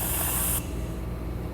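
A pressurized fuel injector from a 2005 Procharged Trailblazer sprays fuel on a test rig, a loud close hiss that cuts off sharply partway through, leaving a softer lingering hiss behind.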